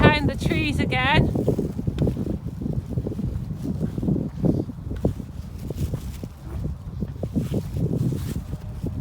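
Wind blowing across open fields buffets the microphone in heavy, uneven gusts, with a person speaking briefly at the start and rustling, footstep-like movement underneath.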